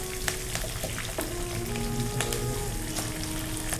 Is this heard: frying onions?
yes